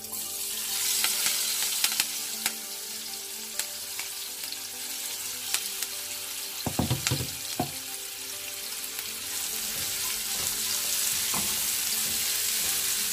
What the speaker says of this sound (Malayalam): ഇതുപോലെ തന്നെ നമുക്ക് ബാക്കിയുള്ളതും ഫ്രൈ ചെയ്തെടുക്കാം.